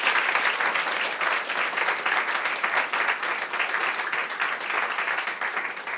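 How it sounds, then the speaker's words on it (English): An audience at a stand-up comedy special breaks into loud, continuous applause, a thick wash of clapping that stays steady for about six seconds before easing slightly at the end. "So give them a round of applause."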